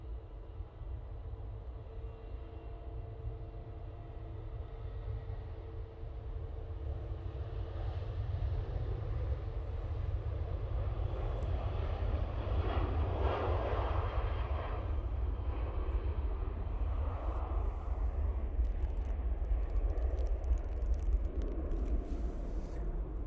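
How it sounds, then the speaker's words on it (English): A Ryanair airliner takes off from Manchester Airport, its jet engines building from a low rumble into a steady, swelling roar that holds at a distance with no voices. "Ryanair off to Rabat."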